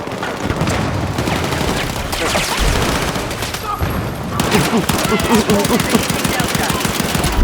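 Rapid bursts of automatic gunfire in Battlefield 6 as suppressing fire, sustained dense volleys with heavier chatter in the later half, mixed with battle noise and occasional talk over it.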